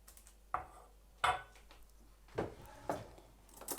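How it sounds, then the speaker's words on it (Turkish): A fork clinks and scrapes in a bowl while mixing milk and sugar, a handful of distinct, fairly quiet taps spaced irregularly in a still room. "Ben çatalla karıştırıyorum."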